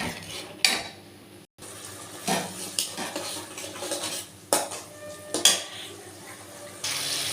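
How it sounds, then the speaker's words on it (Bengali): Spice paste with ginger and cumin paste is stir-fried in a pan with a scraping spatula: uneven metallic strokes and clanks over a faint sizzle, close and fairly loud, with a brief pause partway. "এবার মশলাটাকে আমি একটু কষিয়ে নেব।"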